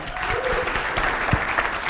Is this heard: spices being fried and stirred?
no